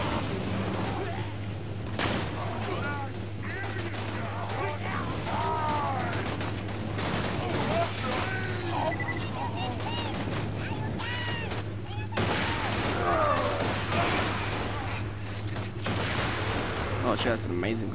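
Grenade blasts and rapid gunfire in the shooter Borderlands 2 keep booming and crackling throughout, dense and loud, with a player talking excitedly over the action.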